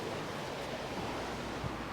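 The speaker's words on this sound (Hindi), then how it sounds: "गली में सामने ही आयोनियन सी बहता है। तो ये बड़ा गहरा समंदर और एक पोर्ट है" Waves of the Ionian Sea at the port of Siracusa, Sicily, a continuous close wash of surf mixed with wind noise, with no talking.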